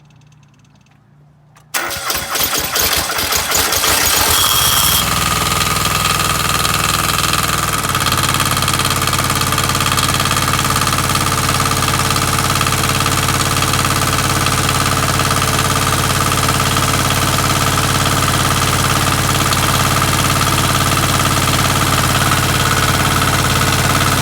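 A 2020 diesel engine cranks over briefly on a cold, snowy start, then catches and settles into a loud, steady idle that runs on alone.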